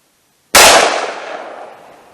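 A Taurus Judge .410 revolver fires a single Hornady Critical Defense round into ballistic gel, one sharp loud blast that cuts in abruptly and rings down over the following second and a half.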